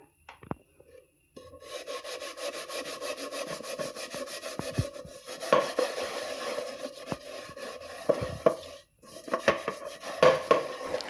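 An old, heavily stained frying pan being scrubbed with a cut potato and salt, a steady gritty rubbing and scraping with short pauses and occasional knocks, close and fairly loud, with no talking.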